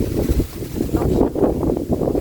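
Heavy gusting wind buffets the microphone in low, rumbling bursts, loud and close throughout, with no voices.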